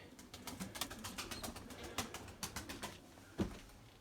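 Purebred Erzurum White breeding pigeons give soft, faint cooing in a loft, with low repeated throaty calls and light rustling in the background.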